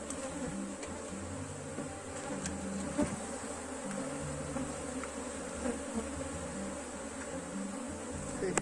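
Honey bees buzz steadily in a dense, continuous drone around a hive frame with queen cells, close and moderately loud, with no talking.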